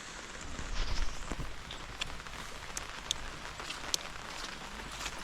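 Light drizzle falling around a rural village home, a soft, steady hiss of fine rain with occasional sharper drop ticks, faint and continuous with no talking.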